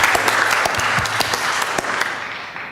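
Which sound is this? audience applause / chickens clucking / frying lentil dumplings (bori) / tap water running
audience applause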